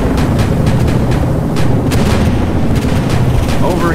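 Video game gunfire from a War of the Worlds combat battle: dense, continuous shooting with rapid cracks and booms, loud and close throughout, with shouted voices mixed in.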